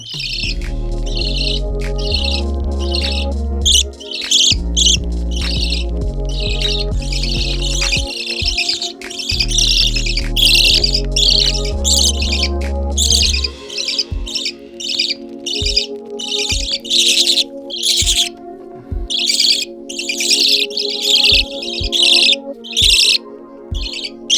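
Budgies chirp loudly and rapidly in sharp bursts, calling for food, with steady low music playing underneath.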